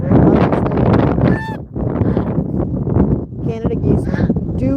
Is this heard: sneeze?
no